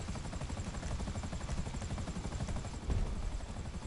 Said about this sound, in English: I like to turn the helicopter around so I don't run into the back blade.